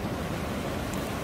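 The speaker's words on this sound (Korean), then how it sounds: "어제보다 파도가 많이 죽기는 했는데 그래도 여전히 파도는 셉니다." Strong sea waves break on Jumunjin beach, a soft continuous wash of surf with some wind rumble, fairly faint and distant, with no voices.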